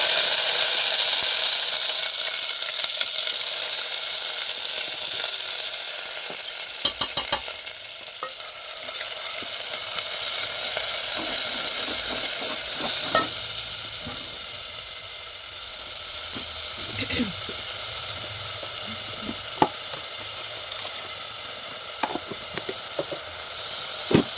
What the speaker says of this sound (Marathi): आता हे मसाला बारीक केलेला आहे आपण तिकडून टाकू